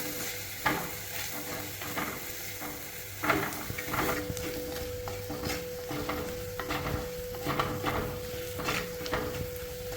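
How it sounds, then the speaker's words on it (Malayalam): Masala of chili powder being stirred in a pan to cook out its raw smell, a steady sizzle under repeated scraping and clinking strokes of a spoon, close and continuous with no talk. "അപ്പം ഇതിൻ്റെ പച്ചമണം മാറുന്നവരെ ഒന്ന് നമുക്ക് നന്നായിട്ടൊന്ന് ഇളക്കി കൊടുക്കാം"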